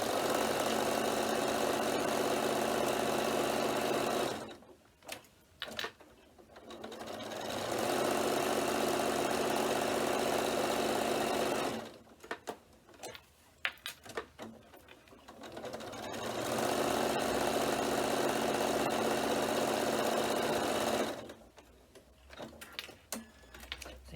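A sewing machine stitches around three sides of a fabric notebook cover, running in three long, steady whirring bursts separated by short pauses with handling clicks.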